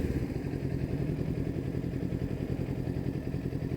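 Steady close engine drone of a Kawasaki Ninja 400 KRT motorcycle on the move, a continuous mid-pitched rumble with light rhythmic clatter and no voices.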